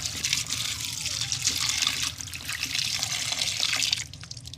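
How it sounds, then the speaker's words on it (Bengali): Green chillies being washed under a running tap, a steady splash of water that continues almost to the end, then cuts off. "কাঁচামরিচগুলো আমি ধুয়ে নিচ্ছি"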